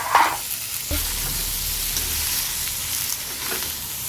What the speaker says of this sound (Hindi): तो हमारा तड़का तड़क गया है